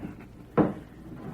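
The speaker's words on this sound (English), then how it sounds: "Better make sure the door's barred tight." A wooden door is barred shut in an old radio drama, giving one solid close thunk of the bar dropping into place against a low, quiet room background.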